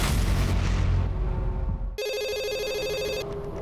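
A telephone rings in a tense crime drama, its bright electronic ring tone starting abruptly partway through after a low rumbling stretch, then continuing steadily and loud.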